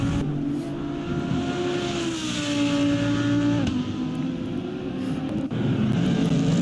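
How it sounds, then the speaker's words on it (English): Onboard engine note of a Lamborghini Huracan GT3 race car at Bahrain, a loud steady drone whose pitch climbs and dips through gear changes, with two sharp shift breaks and no talk. "Here we're on board the Lamborghini Huracan GT3."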